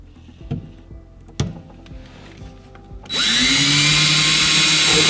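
A power drill drives 1/2-inch screws from the bottom up while assembling a sewing station, starting with a few light knocks and clicks, then a loud continuous whirring drive that holds steady for the last two seconds.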